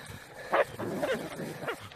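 Andalusian Podenco hunting dogs bark in short bursts during a hunt, three separate yelps spread over two seconds against a busy outdoor background, at moderate distance.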